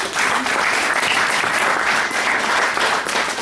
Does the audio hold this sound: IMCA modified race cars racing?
no